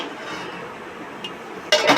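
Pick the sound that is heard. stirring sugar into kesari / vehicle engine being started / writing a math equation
stirring sugar into kesari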